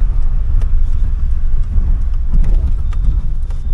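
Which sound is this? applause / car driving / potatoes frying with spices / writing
car driving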